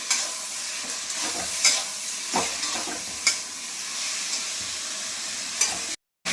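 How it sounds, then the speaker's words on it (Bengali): Masala with salt and sugar frying in a pan, giving a steady sizzle broken by several spatula scrapes as it is stirred. The sound is close, and a brief gap of silence comes near the end. "হালকা মতন একটু চিনি দিয়ে আমি মশলাটা একটু ভালোভাবে কষে নিই"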